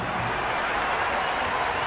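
A cricket crowd in a simulated video-game match between Rajasthan Royals and Mumbai Indians applauds, a dense steady wash of clapping and cheering with no gaps.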